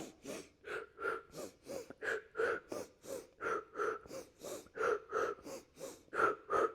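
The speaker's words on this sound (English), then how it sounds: "one percussive breath is inhale, inhale, exhale, exhale" Rhythmic percussive breathing in a Pilates session: paired sharp sniffing inhales and forceful exhales repeat steadily, close and clear, a dozen or more breaths in a regular pulsing pattern with no talking.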